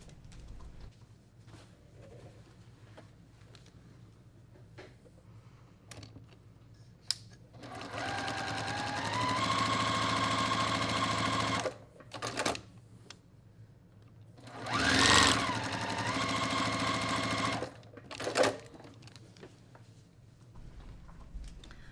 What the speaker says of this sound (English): I'm going to sew real quick and come right back.